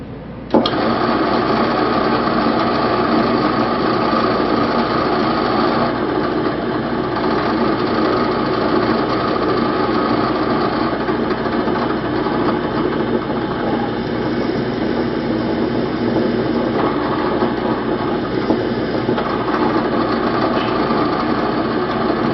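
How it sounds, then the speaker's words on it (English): A small drill boring a hole to add a lead to the back of a key, a steady unbroken motor whine with grinding texture that holds without pause for over twenty seconds. "When you're drilling to add a lead, as I am on the back side of this key number 887"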